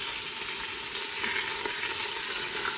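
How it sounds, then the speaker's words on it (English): Pork tenderloins sizzle and crackle steadily in hot oil in a pan, a continuous close frying hiss with occasional small pops and a bit of stirring, no voices. "I'm going to take the pork tenderloins and dump them in there to get that satisfying sizzle effect."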